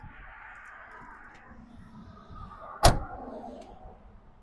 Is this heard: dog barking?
no